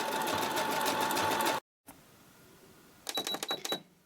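A sewing machine stitches a fabric face mask, a dense buzzing run that halts briefly, then returns in short stop-start bursts with a bright high whine.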